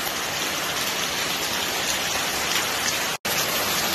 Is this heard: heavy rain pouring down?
yes